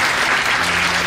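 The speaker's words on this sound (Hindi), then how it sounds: "बजाइए ताली" Audience at a corporate training seminar on communication skills bursts into dense, steady clapping, a brief loud burst of applause filling the room.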